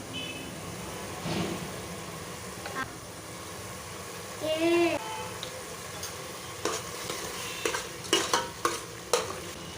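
Tomato masala with chili powder, salt and turmeric frying in a pan, a quiet sizzle under scraping stirs and several sharp spoon knocks toward the end, with a brief faint voice-like tone midway.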